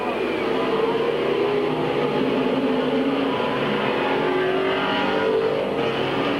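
Race cars circle the Midvale Speedway oval at a 1997 short-track race, engines droning steadily at a distance in a continuous roar with no breaks, mixed with broad crowd and track ambience.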